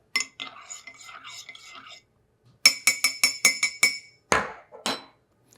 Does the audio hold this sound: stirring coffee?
yes